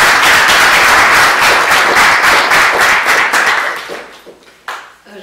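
Large audience at a university event in Sarajevo bursting into loud, dense applause that holds steady for about four seconds and then thins into a few scattered final claps.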